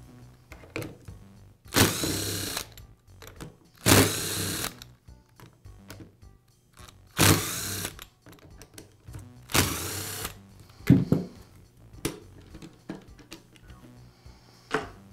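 A screwdriver or small power driver runs in several short bursts, about five loud whirring spells spaced a couple of seconds apart, as screws come out of the rear handle half of a Makita angle drill, with faint clicks between.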